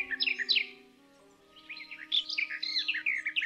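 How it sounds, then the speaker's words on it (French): A warbler sings in quick bursts of high, bright chirps and trills, pausing briefly before a second, longer run of twittering notes over a steady faint background hum. "il vit une fauvette qui chantait et sautillait"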